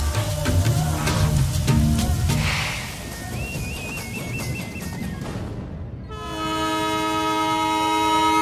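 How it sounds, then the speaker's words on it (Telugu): A train pulls away with rumbling wagons and clatter, then a loud, sustained horn blast rings out clearly near the end, with no talk over it. "అయ్యో ట్రైన్ కదిలిపోతుంది."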